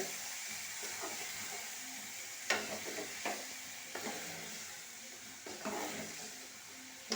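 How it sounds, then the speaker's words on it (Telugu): Brinjal and potato curry frying in a pan, a steady soft sizzle under repeated scraping stirs that come in irregular clattering strokes, close and fairly quiet, with no talking. "వంకాయ వేసాం కదా ఇలా మంచిగా కలిపేసుకోవాలండి"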